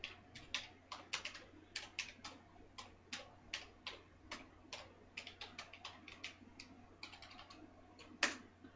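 Irregular clicking keystrokes on a computer keyboard, quiet and close, in uneven bursts with short pauses and one harder tap near the end.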